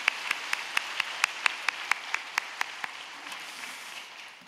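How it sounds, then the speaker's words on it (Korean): Rhythmic clapping at a Friday church prayer meeting, around a dozen sharp claps in a steady beat over a soft background of scattered applause that fades out. "하나님께 영광의 박수 다시 한번 돌려드리겠습니다"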